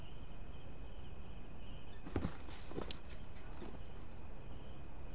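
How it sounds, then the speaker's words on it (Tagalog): A few soft footsteps of someone walking outside at night near a school, faint and brief in the middle, over a constant drone of crickets and insects, with no talking. "parang may naglalakad"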